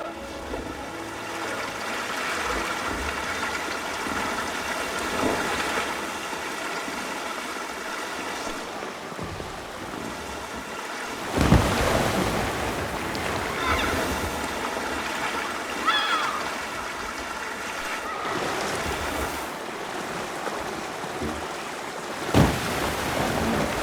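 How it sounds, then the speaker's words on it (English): Rushing, splashing water from a water slide ride in the theme-park game Planet Coaster 2, a steady wash of spray with a few louder surges partway through. "Let's go for a ride on the water slide."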